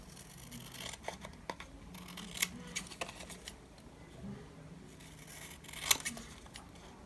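Scissors trim white edges off planner page paper in quiet, irregular clicks, a series of small close cuts with a sharper snip near the end.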